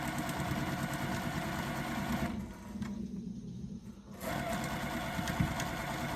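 A sewing machine stitches a quilt up close with a continuous, fast mechanical whir that drops away briefly in the middle before resuming at the same steady pace.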